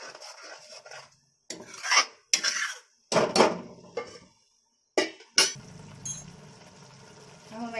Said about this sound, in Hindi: फिर इसे चला के फिर कवर कर देंगे।